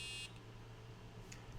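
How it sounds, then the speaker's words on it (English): A single short electronic beep from a programmed pet monster device, a brief tone at the very start, followed by quiet background hum. "it just did one beep"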